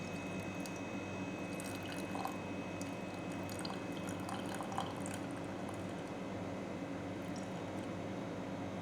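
Water, 57 grams of it, trickles and drips into a sourdough starter being revived after time in the freezer. The pour is soft and quiet against a steady background hiss, with no talking.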